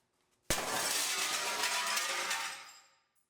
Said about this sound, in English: The sound of the mirror breaking, I think, was the most like epic part.